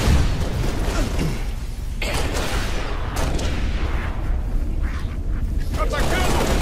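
Gunfire and explosive blasts from a Halo: Reach co-op battle on Xbox 360, dense and continuous bursts with booming impacts throughout.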